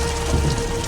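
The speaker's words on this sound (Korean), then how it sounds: "하지만 거센 빗소리에 그녀의 목소리가 묻히고 말았죠." Heavy rain pours down steadily in a dense, loud wash with no voices, the downpour filling the short stretch evenly.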